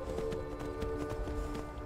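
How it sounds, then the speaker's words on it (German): Horse hooves clop in quick, steady rhythm as a horse gallops in the video game Skyrim, with a low sustained tone running underneath and no talk over it. "Ich mache mit der Maus nach rechts und das Pferd reitet auch nach rechts."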